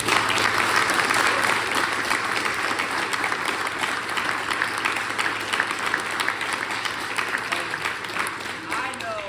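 Audience at a Brazilian jiu-jitsu seminar breaking into sustained applause, dense close clapping that starts strong and slowly thins over several seconds, with no talking over it.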